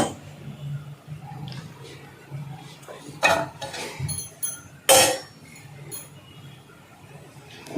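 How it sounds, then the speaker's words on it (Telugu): A metal kadai pan set onto a lit stove, heard as a couple of sharp metallic clanks and clinks with softer kitchen handling noise in between, close and fairly quiet otherwise. "సేమ్ స్టెప్, స్టవ్ వెలిగించి బాండి పెట్టుకున్నాము"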